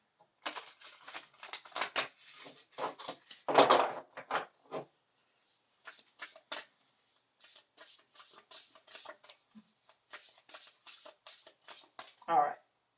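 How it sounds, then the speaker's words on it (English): Oracle cards being shuffled by hand, bursts of crisp riffling and flicking close up in irregular clusters with brief pauses, and a short rubbing sound at the end. "we want to move the energy around"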